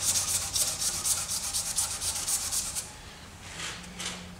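Hand sanding a ballpoint pen blank lengthwise gives rapid, rhythmic back-and-forth rasping strokes, loud and close for about three seconds, then a softer few strokes after a brief pause, with no talking.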